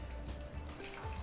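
Boiled black-eyed peas with their cooking water poured into a pot of fried masala, a short burst of splashing and sizzling liquid, close and fairly quiet.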